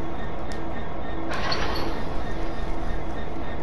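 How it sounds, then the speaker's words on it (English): A Class 66 diesel locomotive coupling up in Train Sim World 2020: a steady rumbling rail-vehicle background with a sharp metallic clank around the middle, followed by a hissy, rattling wash of noise, fairly loud and without talk. "So now we're going to couple up the loco."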